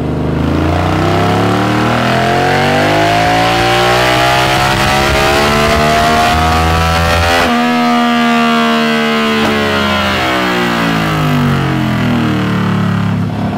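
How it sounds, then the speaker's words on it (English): Big-bore Yamaha V-Max V4 cruiser motorcycle engine revving loudly and continuously up and down through its range, a close, throaty roar with no talk over it. "Let's get a sound check on the big bore V4 fun."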